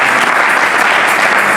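A church congregation applauds loudly and continuously, a dense, even burst of clapping throughout.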